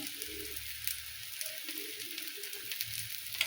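Oil sizzles under an uttapam made from jowar flour cooking on a hot pan, a steady faint hiss with small crackles, close and without talk.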